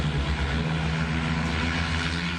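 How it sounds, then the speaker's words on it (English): Steady, dense whirring drone of a locally designed electric vertical takeoff and landing aircraft in flight, an even propeller hum heard alone with no voices over it. "Meet the first locally designed electric vertical takeoff and landing aircraft, or eVTOL."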